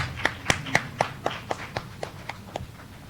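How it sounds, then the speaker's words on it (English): Slow, evenly spaced claps, about eleven of them at a steady beat, fairly faint, like a single person or small group clapping in rhythm. "Give a round of applause, everyone."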